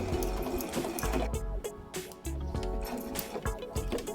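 A sewing machine topstitches a zippered makeup pouch in quick, steady mechanical bursts close by, pausing briefly between runs of stitching.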